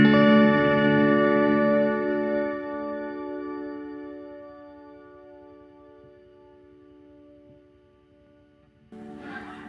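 An effected guitar chord from a reverb pedal rings out and slowly fades through a long, shimmering reverb tail, then a new strum cuts in near the end.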